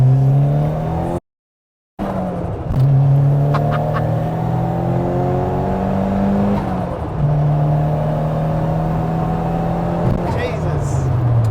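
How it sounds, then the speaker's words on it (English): A 500bhp Cosworth-engined car accelerates hard along a straight national speed limit road, its engine note rising steadily through the gears in long sweeping pulls, loud and close from inside the car, with a short dropout near the start. "It's a national speed limit road, so we'll see what the car pulls like."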